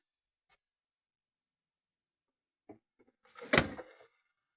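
A drawer in a camper van is pulled open in one short, rough sliding scrape, preceded by a couple of faint clicks and knocks in an otherwise quiet space.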